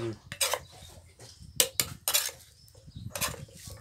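Ingredients are pounded in a mortar while making a Lao-style corn-husk-wrapped dish. The close, irregular sharp knocks and clinks come in several uneven bursts.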